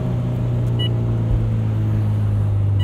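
A supercharged 2003 Honda S2000 engine drones steadily while driving, a loud close hum with a strong low tone and rumble, holding an even pitch throughout with no voices.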